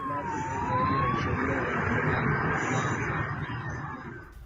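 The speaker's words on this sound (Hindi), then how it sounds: "शहर में एम्बुलेंसेस दौड़ती देखी।" An ambulance siren wails, sweeping up and down through loud, steady city traffic noise nearby, the siren fairly faint against the road rumble.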